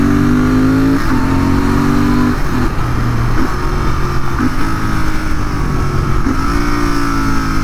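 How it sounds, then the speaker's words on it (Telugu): Royal Enfield GT650 twin-cylinder motorcycle (2023 and older models) downshifting with rev-matching blips, loud steady engine drone broken by several sharp throttle blips and gear changes roughly every second, no talking. "ఇప్పుడు నేను డౌన్ షిఫ్ట్ చేస్తాను, రెవ్ మ్యాచింగ్ చేసుకుంటా."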